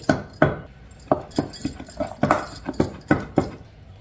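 Gongura leaves are pounded by hand in a clay pot for a village-style chutney, giving a steady run of sharp, close thuds about two or three per second, with no voices.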